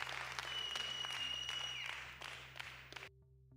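Canned crowd applause played as a sound effect on a Dungeons & Dragons homebrew review stream, dense clapping with a steady hiss that thins out and cuts off abruptly near the end, leaving a low hum.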